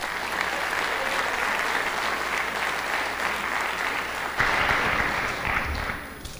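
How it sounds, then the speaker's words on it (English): An audience at a high school senior honors program applauds steadily, dense clapping that swells louder near the end before tapering off. "Another round of applause for them as well."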